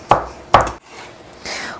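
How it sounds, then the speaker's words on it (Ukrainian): Two sharp knife chops on a cutting board as mushrooms are cut into strips, close and crisp, followed by quieter scraping and a soft rustle of cut pieces. "Ножем я це все намагаюсь розрізати спочатку на такі смужки"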